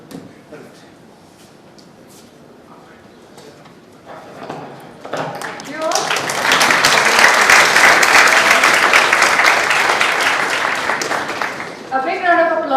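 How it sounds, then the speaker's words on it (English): Audience at a consumer protection law awareness workshop breaks into loud, dense applause for the participants, building after a few quieter seconds of murmur and lasting several seconds before voices return. "A big round of applause to all the participants over here."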